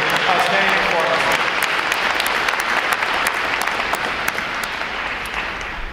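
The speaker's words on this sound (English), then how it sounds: "how about another round of applause for this outstanding performance?" Sustained audience applause fills a U.S. Navy Recruit Training Command graduation ceremony, a dense steady clatter of many hands throughout that thins slightly toward the end.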